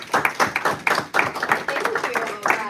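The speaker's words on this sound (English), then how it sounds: "So with a big Minding Your Family Chiropractic round of applause, I want you to welcome Kellie Hamilton" A small audience at a nutrition workshop applauds to welcome a speaker, the claps close, uneven and somewhat sparse, with a few voices over them.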